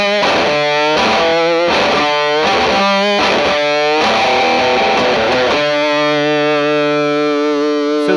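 An electric guitar runs through a Cash Boost treble booster pedal and plays loud, distorted, bright chopped chords in a rhythmic pattern, then a ringing sustained chord near the end.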